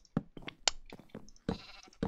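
Sheep bleating in the Minecraft video game, several short game bleats in an irregular series over about two seconds, fairly close with no talking.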